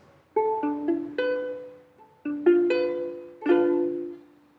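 A ukulele plays a chord from a riff. Its strings are plucked one after another in two quick rolling groups, and each note rings out clearly and close up before fading, with no talking.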